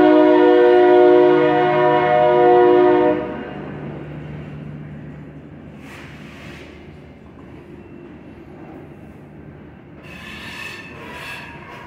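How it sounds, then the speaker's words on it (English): A train passes by an auto shop, opening with a loud, harmonic horn blast that cuts off after three seconds, followed by a low, steady rail rumble and a few faint clanks and hisses later on. "The shop's good for having the train go by."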